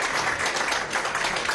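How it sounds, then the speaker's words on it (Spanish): A crowd applauds for María, a dense, even wash of clapping that stays steady and fairly close throughout. "un aplauso a María"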